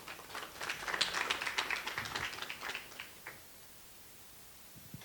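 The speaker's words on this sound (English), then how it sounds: "A round of applause." A short round of applause from an audience at a clinic launch ceremony in Rwanda, fairly faint and a little distant, rising quickly, peaking, then fading out after about three seconds into near silence.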